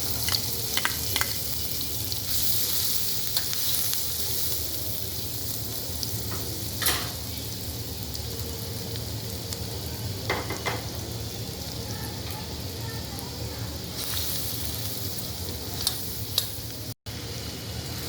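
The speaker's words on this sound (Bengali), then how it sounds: "হালকা ভেজে নিচ্ছি।" Butter and chopped garlic fry in a pan, a steady close sizzle with crackles and a few stirring clinks and scrapes throughout, no talking.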